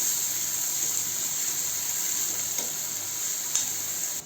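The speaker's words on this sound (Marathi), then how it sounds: "त्यामध्ये बारीक चिरलेला कांदा, नंतर कांदा आपण परतून घेऊ" Finely chopped onion sautés in a pan over high gas after garlic, a dense, steady hissing sizzle with only faint stirring touches, close and unbroken, no voices.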